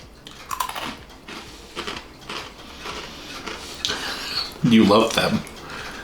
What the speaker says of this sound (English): They got a nice crunch to them.